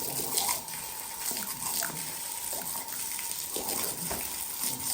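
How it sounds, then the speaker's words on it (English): Steady rush of water streaming from a garden hose pipe in a yard, a continuous close gushing spray with splashing and dripping, loud and unbroken. "they are literally attacking the stream of water coming out of a hose pipe"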